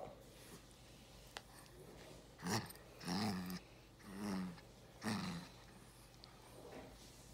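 A puppy growls in several short, throaty bursts while playing with a toy frog, four or five distinct rumbling grumbles spaced a second or so apart over quiet room background.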